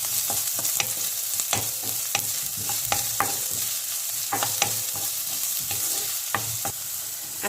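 Chili, garlic and onion sizzle in hot cooking oil in a pan, a steady fry with repeated sharp scrapes and stirring clicks, up close.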